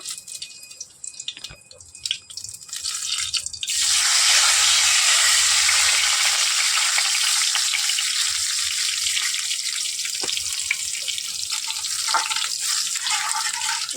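Tempering spices for chana dal hit hot oil with a sudden loud, steady sizzle that holds for about ten seconds after a few seconds of quiet kitchen clatter.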